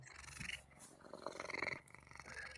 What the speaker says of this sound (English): I can hear the cat purring.